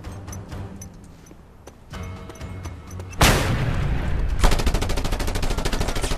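Rapid automatic gunfire in the video game Just Cause 2, with scattered shots early on, then a loud, dense burst of sustained machine-gun fire and heavy blasts filling the second half, with no talking.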